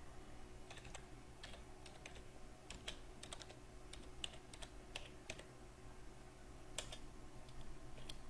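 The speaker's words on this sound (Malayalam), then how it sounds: "ഓൾട്ട് സി അമർത്തുക." A computer keyboard being pressed while working in Tally accounting software, producing scattered, fairly quiet key clicks in short bursts and single taps over a low background hum, with no talking.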